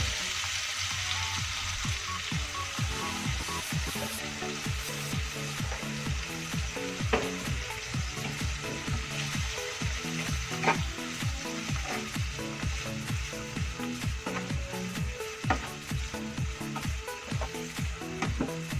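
Aceh-style shrimp mie goreng noodles sizzle and fry in a pan, with a steady crackle broken by rhythmic scraping and stirring strokes, continuous and close with no voices.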